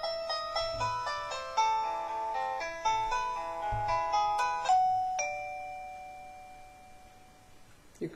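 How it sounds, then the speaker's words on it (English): A mini doorbell plays a melodic chime tune of several bright tones, then finishes with a long ringing note that slowly fades. "that's a normal doorbell"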